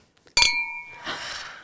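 Glasses clink together in a toast, a single bright ringing chink that decays over about half a second, followed by a soft rustling murmur.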